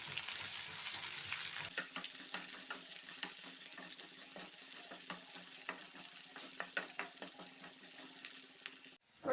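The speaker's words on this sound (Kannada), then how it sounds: "ಇದು ಚೆನ್ನಾಗಿ ಗೋಲ್ಡನ್ ಬ್ರೌನ್ ಆಗುವವರೆಗೂ ನಾವು ಫ್ರೈ ಮಾಡ್ಕೊಳ್ಬೇಕು" Medium-sized onions fry in a pan toward golden brown, giving a continuous close hiss with frequent small crackles and light stirring, steady and unbroken until a brief stop at the end.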